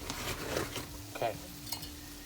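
Cornbread dressing mixture being stirred in a pan makes soft scraping and clinking of a utensil against the pan in a few uneven strokes, close by with faint background hum.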